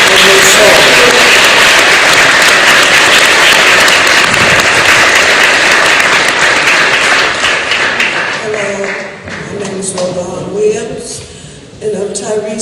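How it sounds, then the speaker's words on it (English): Crowd applause and cheering at an outdoor news conference about a man killed after a Memphis traffic stop, loud and dense at first, then thinning out with voices calling over it. "Y'all please give a big round of applause for a mother"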